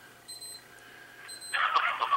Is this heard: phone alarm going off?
yes